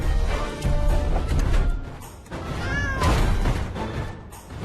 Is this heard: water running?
no